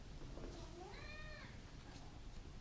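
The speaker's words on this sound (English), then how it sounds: "I'm getting outside help from Cherry, the cat" A cat meows once, a clear rising and falling call set against steady room noise during a tabletop card game session.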